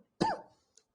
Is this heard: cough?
yes